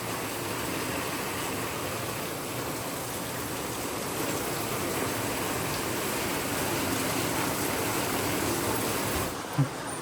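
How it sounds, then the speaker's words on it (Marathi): Steady, dense hiss of heavy rain pouring down continuously in rural Konkan, loud and unbroken throughout, with a brief knock near the end. "किती पाऊस जोरात आलाय ना"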